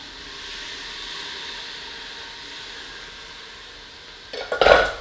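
A can of diced tomatoes tipped into a pot for vegan chili mac: a steady low hiss, then a short wet splash and clatter right at the end.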